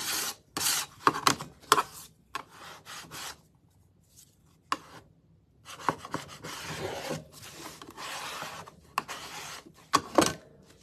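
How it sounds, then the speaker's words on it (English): A scraper drawn over a wooden farmhouse breadboard, including sideways strokes, makes repeated raspy scraping passes of uneven length with pauses and a few knocks between them, close up, with no speech. "I'm going to do a little sideways scraping too"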